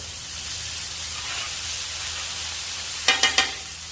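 Burgers frying on a cast iron flat top griddle make a steady, close hiss of sizzling throughout, broken near the end by three quick scraping clacks of a spatula.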